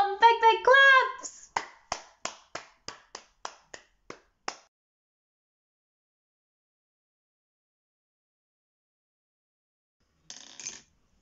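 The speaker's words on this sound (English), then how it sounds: "big claps!" A group of children at an arts workshop clap in a short rhythmic sequence of sharp, evenly spaced claps that slows and stops, after brief voices at the start, then silence and a faint closing sound.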